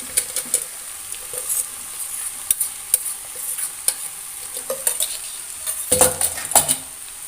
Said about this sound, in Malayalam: നമ്മളത് നല്ലോണം മിക്സ് ചെയ്ത് എടുക്കാം